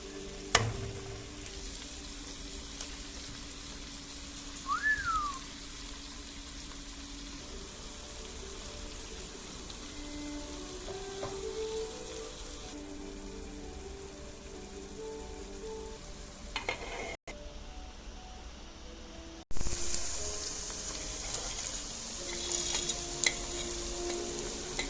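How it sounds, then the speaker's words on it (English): A quiet, continuous sizzle of eggplant filling with tomato paste frying in a pan, with a few soft clicks and a brief louder burst of spattering toward the end. "After adding all of the materials, let it fry, and it's ready."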